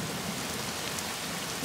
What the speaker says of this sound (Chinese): 呀，下雨了！